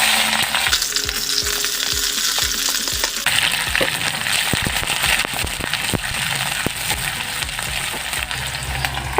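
Dried chillies and chopped onions hit hot oil in a pan for an Assamese chicken curry, a loud continuous sizzle with crackling pops and stirring scrapes, close and without talk.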